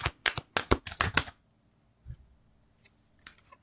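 A quick ripple of tarot card shuffling, several sharp riffling bursts in a row, followed by near silence with a few faint soft taps.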